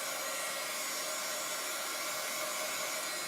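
A hair dryer blows steadily at close range, drying chalk paste on a craft project in a constant unbroken whoosh with no other sounds or voices.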